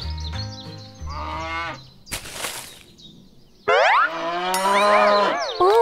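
Cows moo in a series of long, drawn-out calls, some deep and some rising higher, with a brief noisy burst in between; close and loud.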